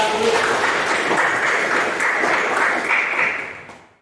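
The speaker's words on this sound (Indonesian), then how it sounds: "tepuk tangan dulu buat Resti" Students in a classroom applaud for a classmate, a thick, continuous patter of many hands that holds steady, then fades away at the end.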